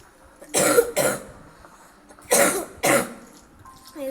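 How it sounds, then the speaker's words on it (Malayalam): Two pairs of harsh coughs, each a quick double burst, sound close and loud with quiet pauses between them. "ചെറിയ ചുമയൊക്കെ ഉണ്ട്"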